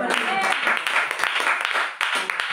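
Congregation clapping hands in a church service, a dense, steady patter of many hands with voices mixed in throughout.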